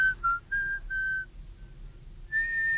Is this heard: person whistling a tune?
yes